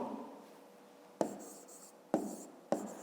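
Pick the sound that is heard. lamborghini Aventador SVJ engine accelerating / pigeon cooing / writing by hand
writing by hand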